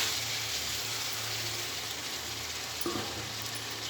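Spice paste and mixed vegetables frying in oil for a vegetarian ghonto curry, giving a steady, close sizzling hiss throughout with a faint clack near the end and no voices.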